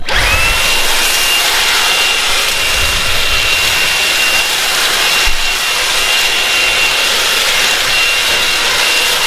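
A Dreame V10 Pro cordless stick vacuum works a rug with its small brush head in turbo mode, roaring loud and steady with a high motor whine and brief dips as it is pushed across.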